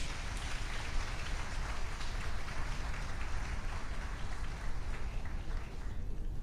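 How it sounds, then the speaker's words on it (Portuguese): A church congregation applauds during a novena to Saint Peter the Apostle, a dense, steady wash of clapping from many hands that stays even and sustained throughout, with no voices above it. "Uma salva de palmas."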